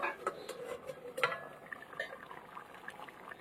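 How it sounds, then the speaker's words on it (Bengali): The lid comes off a pot of neem shukto in a home kitchen, giving a few faint metallic clinks and light scrapes in a quiet room. "এবার ঢাকনা খুলবো।"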